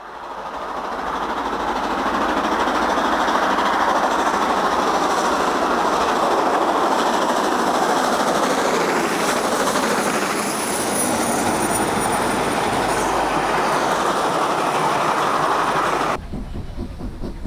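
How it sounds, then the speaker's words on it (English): Two LMS Stanier Black 5 steam locomotives double-heading a train roar past loudly and continuously, with rumbling wheels and clattering carriages throughout and a faint high squeal partway through. "Watch the sparks fly as this double-header gets the road"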